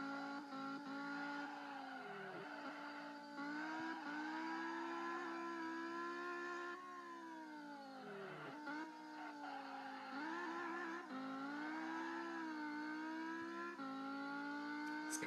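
A Dodge SRT Viper ACR's engine howls in the Assoluto Racing video game, the revs rising and dipping repeatedly through gear changes and braking, loud and continuous with no voices.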